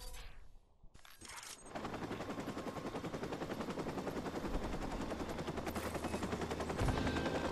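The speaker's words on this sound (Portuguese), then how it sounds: "Tá atirando com a minha cara" Sustained machine-gun fire rattles continuously for several seconds in Watch Dogs, aimed at the player, with dense rapid bursts after a brief quieter opening and a heavier shot near the end.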